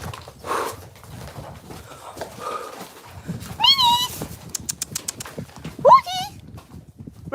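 Big horses move about and crowd close on cold ground, with shuffling steps, snorts and whinny-like calls nearby, amid irregular thumps and movement noise.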